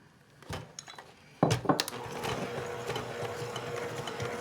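Egg, melted butter and buttermilk whisked into flour in a bowl for matcha-glazed donut dough. A few light clinks come first, then brisk, steady whisk scraping and tapping against the bowl continues close up.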